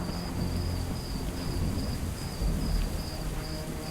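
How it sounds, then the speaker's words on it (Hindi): Steady rain with a low rumble of thunder rolling underneath, a dense continuous wash of sound with faint insect chirping in the background. "बारिश अब धीमी हो रही थी"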